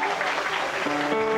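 Wedding guests applaud in a reception hall, a short, loud, steady round of clapping with a voice and tonal music sounding underneath.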